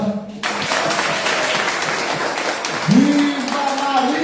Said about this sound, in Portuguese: vamos dar uma salva de palmas forte para ela